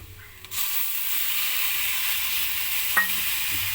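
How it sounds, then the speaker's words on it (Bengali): Sidol, a fermented fish paste, fries with brinjal in a pan, giving a loud, steady sizzle that swells suddenly after a moment and holds, with a brief scrape of stirring near the end. "ভেজে নেওয়ার পর একটু ভাজতে থাকবো"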